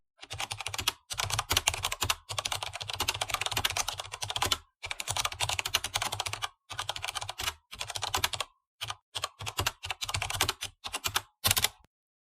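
Rapid bursts of typing on a computer keyboard entering terminal commands, close and crisp, with short pauses between runs of keystrokes and no talking.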